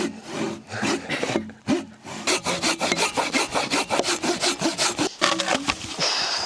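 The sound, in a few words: sawing felled tree into firewood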